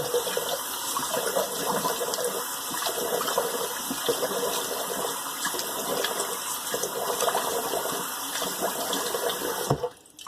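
Cold tap water runs steadily into a bathroom sink for a post-shave rinse, a continuous close gush that stops abruptly near the end.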